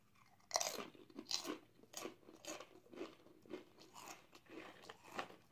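Close, crisp crunching and chewing of Flamin' Hot Nacho Doritos chips, with a sharp first bite followed by a steady series of crackly chews and no talking.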